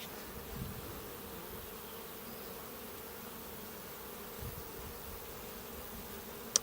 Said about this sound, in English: I'll leave you on a quick little watching them buzzing about